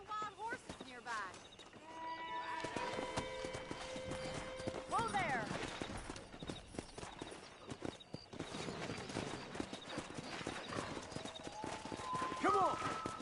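Hooves of wild horses clip-clop and gallop across open ground in the video game Red Dead Redemption, with whinnies and a voice calling out over the steady hoofbeats and ambient game sounds.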